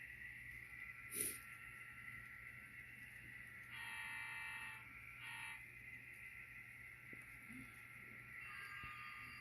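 A BNSF model diesel locomotive idles with a steady electronic engine hum and faint whine, rising briefly in pitch as it revs, with a short horn-like toot early on.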